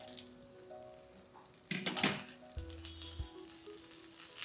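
Okra drops into hot oil in a pan and sets off a soft burst of sizzling and crackling that continues at a quiet level, with a faint tonal hum in the background.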